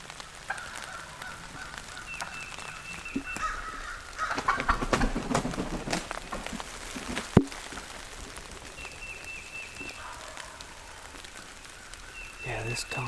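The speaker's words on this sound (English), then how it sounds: "One down the hollow is fired up. We got 2 gobblers." Two wild turkey gobblers gobble in a wooded hollow during spring turkey season, with faint, distant bursts repeating every few seconds over quiet outdoor ambience, and a person whispers nearby.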